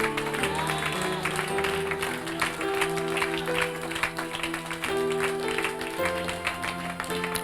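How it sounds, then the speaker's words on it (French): A church congregation applauding and cheering during an evangelistic sermon: steady, dense clapping and crowd noise held throughout, mixed with sustained organ or keyboard music. "Je veux qu'on acclame ce Dieu-là."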